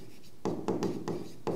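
Chalk or marker writing out math equations on a board, a few short scratchy strokes in quick irregular bursts, close and clear with no talk.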